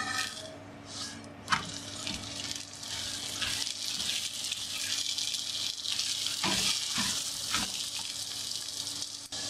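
A chicken cheese paratha fries in oil on a tawa with a broad, steady hiss of sizzling that rises and holds, broken by a few scraping turns of a spatula.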